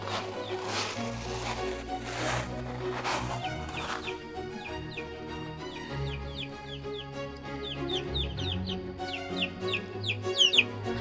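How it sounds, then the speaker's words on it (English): Baby chicks peep continuously in a cottage garden, high thin calls repeating in quick overlapping bursts over a steady low hum and broadband rustling, fairly close and moderately loud throughout. "You can hear the baby chicks."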